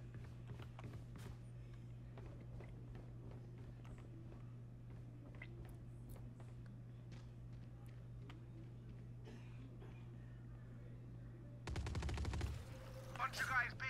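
Faint, scattered gunshots in the tactical shooter game Valorant, sounding as distant sharp cracks over a steady low hum, followed near the end by a louder burst of noise.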